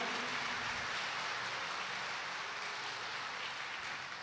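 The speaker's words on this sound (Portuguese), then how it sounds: "vocês merecem uma salva de palmas também" Steady congregation applause fills a church after the priest's call during a Sunday Mass homily, a dense, even wash of clapping held at constant volume throughout with no voices over it.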